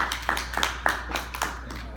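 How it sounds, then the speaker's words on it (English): Scattered clapping from a small audience at a talk about a first track meet, a handful of distinct claps spaced unevenly, fairly close, with no voices over it. "Give Mr. McGlennon a round of applause"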